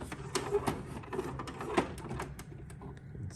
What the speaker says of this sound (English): First, you lift up the cover.